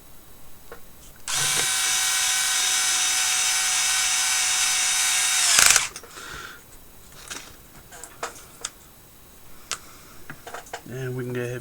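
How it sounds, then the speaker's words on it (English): A power driver whirs loudly and steadily for about four seconds, sinking small screws into a CEN B50 RC truck skid plate, then stops, followed by quieter clicks and handling noises. "And we can go ahead and put our 4 small screws in."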